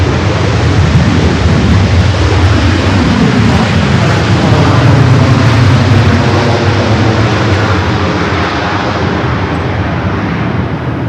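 Passenger jet arriving at LAX airport on a flight from Denver: a loud, continuous broadband engine roar close by, rumbling steadily for the whole stretch with no break.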